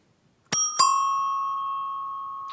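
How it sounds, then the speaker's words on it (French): A bicycle bell rings twice in quick succession, close and clear, each bright metallic strike leaving a long sustained ring that slowly fades, with a faint touch at the end; no talking. "je vais quand même mettre à l'abri la sonnette qui risquerait sinon de se tordre."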